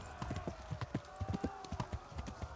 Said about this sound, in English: Why is this horse so slow?